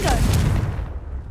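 A Confringo fire spell blast in the video game Hogwarts Legacy, a short explosive boom with a crackling burst that decays quickly into quiet.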